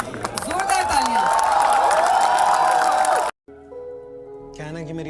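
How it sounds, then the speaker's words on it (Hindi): An audience at a poetry performance breaks into loud, dense applause and cheering that fills the first three seconds, then cuts off abruptly into near silence before a tonal musical sound enters. "जोरदार तालियां"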